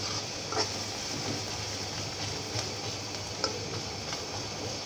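Chopped onions softening in oil in a pan for a dried lotte fish bhuna, a steady soft sizzle close by with occasional light clicks and taps of stirring, no voices.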